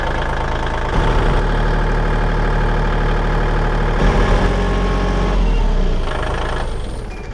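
A hydraulic machine's engine runs steadily close by while lifting, a heavy droning rumble that rises in strain at intervals before easing off toward the end.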